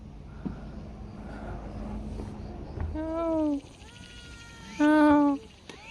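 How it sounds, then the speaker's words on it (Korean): Two cats on the rocky 381 m summit of Yongbongsan meow twice in clear, drawn-out cries, a few seconds apart. They sound close, above outdoor ambience and faint talk. "이쁜 고양이 쟤네들 두 마리가 있네"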